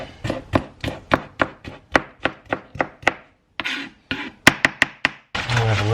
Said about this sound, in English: chop up some capsicums